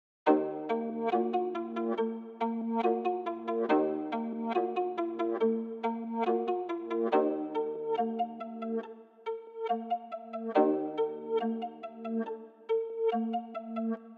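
A synth melody built from a Sakura preset, processed with chorus, Gross Beat stutter and half-speed effects and reverb, plays a steady layered phrase of bright sustained chords and notes for the whole stretch, with no voices.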